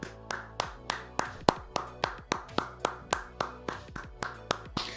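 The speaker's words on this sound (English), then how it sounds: "Round of applause." A single pair of hands clapping in a steady, even rhythm, about three claps per second, close and isolated with no voices.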